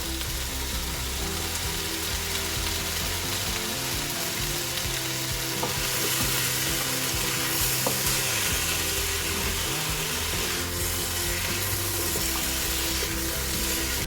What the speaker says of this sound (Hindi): एक बैच तो मेरा फ्राई हो गया है सब्जियों का